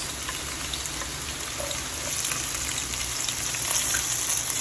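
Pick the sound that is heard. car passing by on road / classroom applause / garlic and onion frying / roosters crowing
garlic and onion frying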